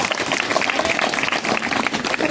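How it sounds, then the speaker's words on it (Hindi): Loud, steady clapping from a church prayer congregation fills the space, dense and continuous with a few voices faintly mixed in beneath the applause. "जोर से ताली बजाना।"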